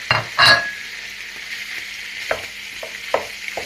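Lamb heart hits melted tail fat and olive oil in a pan, giving a sharp splash and sizzle, then a steady low frying hiss with a few brief clinks of stirring.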